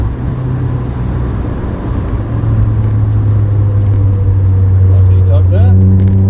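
A Toyota AE86 Corolla Coupe's engine drones steadily and loudly from inside the car, its tone holding through quick short-ratio gear changes, with a rising whine near the end and road noise beneath.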